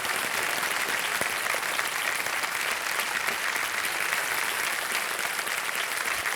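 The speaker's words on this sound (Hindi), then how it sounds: "मैं चाहूंगा कि जोरदार तालियां" Studio audience applause on a televised quiz show, loud, dense and continuous clapping from many hands that holds steady throughout, with no talking over it.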